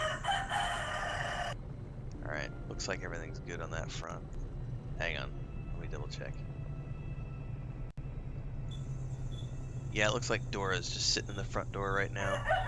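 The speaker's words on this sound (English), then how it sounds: "And there's the chickens. You guys can probably hear that on the stream right now" Chickens crow and cluck on a homestead, picked up by a live stream and heard behind someone talking, with calls rising in bursts near the start and end.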